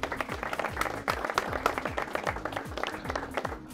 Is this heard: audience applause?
yes